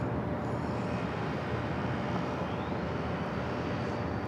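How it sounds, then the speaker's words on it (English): A Japan Airlines Boeing 787-8 Dreamliner crosses the runway at San Diego airport, giving a steady, broad engine rumble and roar that holds at a moderate distance without pause. "Japan at 787-8 Dreamliner now going to cross over the runway"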